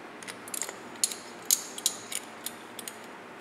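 A 3/4 inch 1/4-20 bolt driven into an Actobotics aluminum channel gearbox, heard as a faint series of small metallic ratchet clicks at uneven intervals against quiet background.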